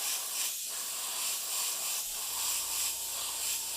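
An airbrush sprays paint onto a miniature figure in light passes with the trigger pulled back gently, giving a steady, close airy hiss that swells slightly in short pulses with no talking.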